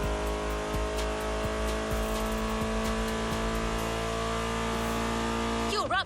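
A 1970 Dodge Challenger in The Crew Motorfest racing game rumbles with a deep, steady engine drone, revving in repeated bursts, then climbs sharply at the end, up close and loud.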